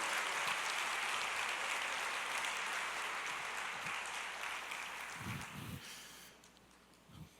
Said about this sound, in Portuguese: Aplauda com o Senhor, com júbilo, em nome de Jesus.